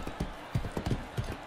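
Horse clip-clopping in the Motion Sports video game, a run of close, evenly spaced hoof thuds at a brisk trotting pace, with no talk over it.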